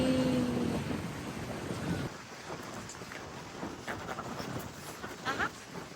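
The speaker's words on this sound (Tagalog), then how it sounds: "Grabe, ang lakas ng alon! Look at that, ang lakas kasi ng hangin." Strong ocean waves and gusty wind at Huntington Beach at sunset, a continuous roaring wash with heavy wind noise buffeting the microphone, loudest at the start and then settling into a steady surf rumble.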